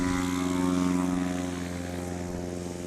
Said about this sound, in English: Oh, nice, easy takeoff.